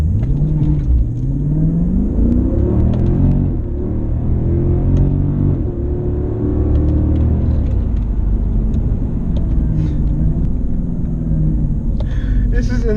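A Mercedes CL63 AMG drives and accelerates, its engine note rising and falling in smooth sweeps through repeated pulls, a deep rumble heard from inside the cabin throughout.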